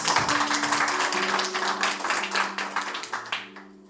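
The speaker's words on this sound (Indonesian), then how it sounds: "tepuk tangan dulu" A church congregation claps in dense, continuous applause that gradually thins and fades out, with some voices or a sustained tone underneath.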